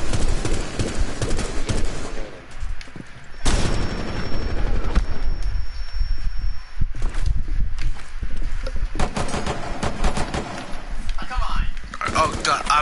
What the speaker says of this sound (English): How are these motherfuckers shooting me?